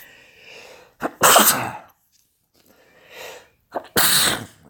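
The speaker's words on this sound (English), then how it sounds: "Me sneezing away." Two loud, close sneezes, each preceded by a quick sharp inhale, with faint breathy sounds between them.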